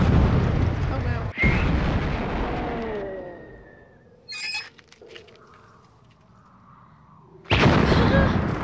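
Fiery blasts conjured by an enchanter in the 1975 film Monty Python and the Holy Grail: a loud roaring burst, a long fading rumble, a brief crackle midway, then another sudden powerful blast near the end.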